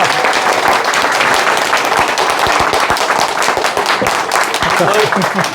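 A crowd at a political town hall talk in Chuncheon, South Korea, applauds continuously, dense overlapping claps filling the whole stretch at an even, lively intensity.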